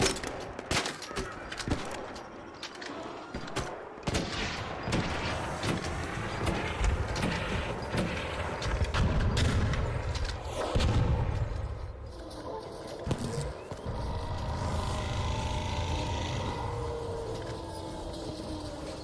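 Hull cracker weapon in the shooter game ARC Raiders fires repeated heavy shots and rapid bursts with crunchy impacts across the stretch, loud and close, layered with game rumble and a voice talking intermittently.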